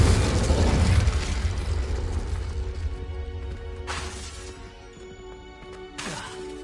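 Confringo blasting spell effect: a big booming explosion that decays into a long rumbling tail, followed by two smaller sharp crashes a few seconds apart.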